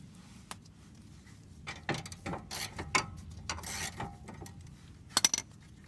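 A ratchet wrench removes 3/4 bolts from the brake assembly of a Nissan Altima during a rotor and pad job, giving scattered close mechanical clicks and clanks in short bursts over a quiet background.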